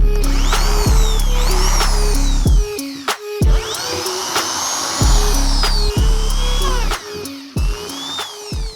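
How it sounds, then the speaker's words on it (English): A power drill whirs in repeated short bursts drilling holes in a scooter toolbox, revving up and stopping several times, close by and loud, with mechanical clicks between runs. "With the toolbox marked, I can drill out the first couple holes to make sure that it works properly."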